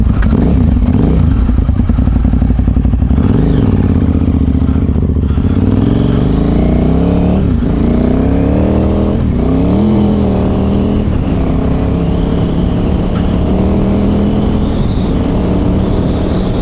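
A KTM Super Enduro 950 motorcycle being ridden, its engine loud and close with a steady drone that rises and falls as it revs and shifts, continuous throughout with no talk.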